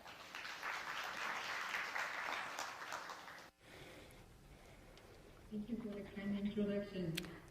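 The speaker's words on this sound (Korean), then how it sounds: "큰 박수로 맞이해 주십시오" Audience applause at a Korean space-economy forum, a spread of clapping for roughly three and a half seconds that stops abruptly, followed by quieter room sound and a voice beginning to speak.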